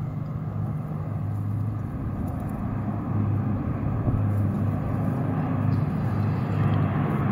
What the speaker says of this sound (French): T'as un avion, 2, 3, 4, 5, 6 Canadair.